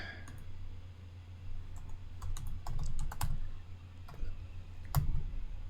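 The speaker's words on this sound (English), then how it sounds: "Every time I type T in here, it locks up." Keys clacking on a computer keyboard during a Minecraft session, irregular taps and short clusters of keystrokes over a steady low hum, close and moderately quiet.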